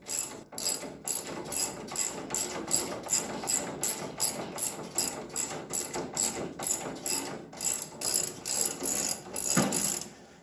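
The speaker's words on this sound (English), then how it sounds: "So now I'm tightening this thing up until I can release the ratchet strap." A socket ratchet tightens up on front suspension during removal, clicking in a steady, fast rhythm of close, loud metallic ticks that runs in repeated strokes for about ten seconds.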